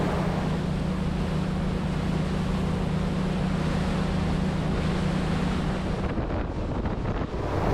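superRIB 27 rigid inflatable boat running on open water, heavy wind roar and rushing spray filling the sound with a low steady engine hum beneath, the hum falling away near the end.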